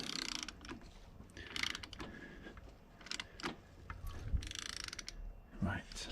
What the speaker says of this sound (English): So that's 1 turn of the crank.